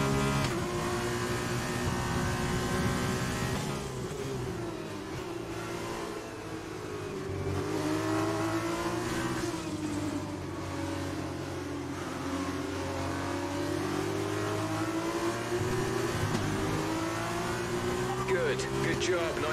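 Engine of an F1 race car in the F1 2020 racing game at Silverstone, a steady loud high-pitched whine rising and shifting through gears throughout, with talk over it.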